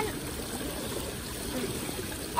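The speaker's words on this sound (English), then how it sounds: "the water is kind of like an infinity pool because it comes down the edge" Water spills steadily over the edge of a sculpture fountain in an outdoor sculpture garden, a soft, continuous trickling rush with no break, ending in a small bump.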